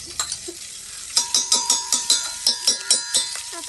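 Crushed ginger, garlic and chilli sizzling and crackling in hot oil in a pot, with a steady hiss punctuated by a series of sharp, regular clinks of a utensil stirring against the pot, close and fairly loud.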